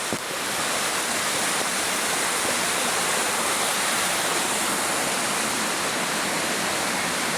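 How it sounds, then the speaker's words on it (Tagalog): A waterfall in Kibawe, Bukidnon roars in a steady, loud, unbroken rush of falling water that fills the whole clip, with no voices over it. "Yung falls. Ayan. Ganda doon o. Doon ang tubig."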